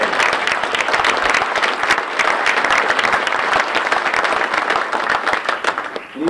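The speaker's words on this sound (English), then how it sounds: "let me first of all start by asking you all to give a big round of applause to the folks who are working the tables here" A morning breakfast crowd applauds the workers staffing the tables, loud close clapping with distinct individual hand claps in a steady stream, tapering near the end as a voice begins.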